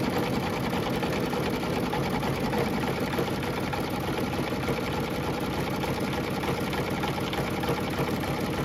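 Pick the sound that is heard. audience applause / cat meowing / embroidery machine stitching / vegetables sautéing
embroidery machine stitching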